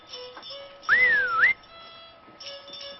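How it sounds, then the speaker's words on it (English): A single clear, rising-and-falling whistle lasting about half a second, standing out against a quiet background. "and to his team he gave a whistle"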